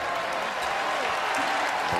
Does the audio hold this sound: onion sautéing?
no